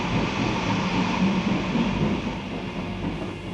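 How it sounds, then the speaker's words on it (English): Troop trains rumble over rails, a dense low rolling roar of wheels and railcars that stays loud and close, then eases slightly toward the end, with no voices. "The troop trains rumbled across Europe, bearing division after division from east to west."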